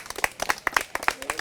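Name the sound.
audience clapping on a comedy game show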